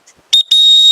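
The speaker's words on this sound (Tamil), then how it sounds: "விசில் போடுங்க ஜி. விசில் போடுறேன்." A whistle is blown inside a busy Chennai rain coat and umbrella wholesale shop: a short piercing toot, then a brief pause and a long, steady, loud shrill blast close by.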